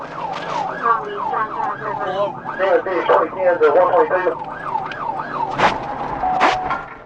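Arkansas State Police trooper car siren during a pursuit of a stolen SUV, a loud rapidly warbling wail that sweeps up and down continuously, with brief sharp bursts near the end.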